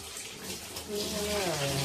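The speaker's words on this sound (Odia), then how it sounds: "ଧୋଉଛି କାରଣ ଆମେ ତାକୁ ଭଲସେ ଧୋଇବା ନା" Raw chicken pieces are rinsed under running tap water, a steady, fairly quiet stream of splashing flow that grows slightly fuller partway through, with a faint voice-like tone near the end.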